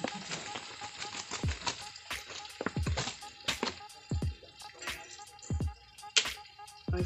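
Silkworms fry with turmeric, meat masala and green chili, sizzling steadily while a spoon clatters and scrapes through the pan in irregular knocks, close and moderately loud.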